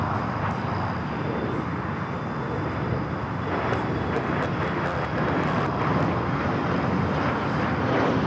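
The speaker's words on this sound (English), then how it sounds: "1094 taking off to Cabo on the E145" A JSX Embraer E145 regional jet taking off from LAX produces a steady, fairly loud engine roar with some wind buffeting, holding level throughout and rising slightly toward the end.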